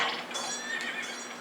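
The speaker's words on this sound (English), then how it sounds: "That horse doesn't like it either." A horse neighs in a video game (Castlevania: Symphony of the Night) in a high, shaky whinny, faint and alone, trailing off over about a second.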